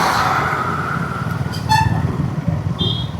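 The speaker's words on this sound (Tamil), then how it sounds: "lorry lorry" A lorry rumbles past on a busy road, heard from a motorbike ride amid steady traffic noise, with short horn toots sounding as it goes by.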